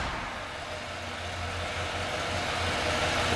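A 1955 Packard 400 two-door hardtop engine idles steadily with a low, even rumble, close and continuous throughout.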